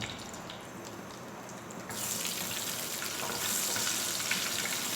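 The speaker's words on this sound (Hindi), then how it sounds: "हम इसमें ज़ीरे का तड़का लगाते हैं, ज़ीरा डालते हैं" Cumin seeds and dried red chillies crackle and sizzle in hot oil for a tempering, a steady frying hiss that jumps brighter and louder partway through, with no talking.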